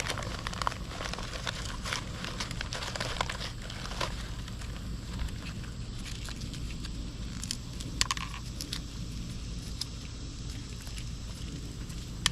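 Dry Blue Lake bush bean pods crinkle and crackle as they are peeled open by hand, a soft, steady run of close, papery snaps and rustles with no talking.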